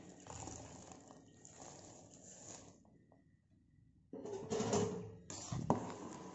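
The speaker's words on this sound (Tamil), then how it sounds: "இப்போ சர்க்கரை நல்லா கரையிற வரையும் நல்லா கிண்டி விட்டுடலாம்." Sugar is stirred into boiling milk with kozhukattai, a wet bubbling and sloshing that fades to near quiet midway, then returns louder with swirling liquid and a sharp knock near the end.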